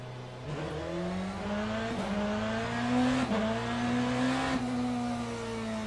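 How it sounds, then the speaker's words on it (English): Race car engine in Le Mans Ultimate at Portimao, a steady loud whine holding close and continuous, rising and dipping in pitch through gear changes with brief shifts every second or so. "You mean the audio from the engine?"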